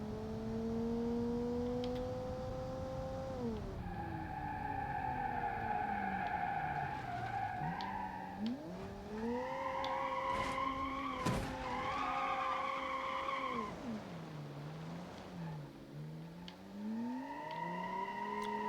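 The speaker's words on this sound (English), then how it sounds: "all it does is spin its wheels and it's really loud" A video game car engine roars loudly while its tires squeal and spin continuously, the pitch rising and falling as it revs, with no talking.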